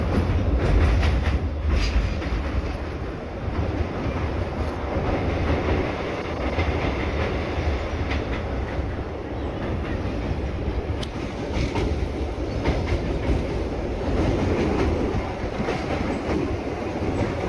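A train rolls steadily across the new Pamban railway bridge, a continuous close rumble with faint rhythmic wheel clatter over the full length, no voices.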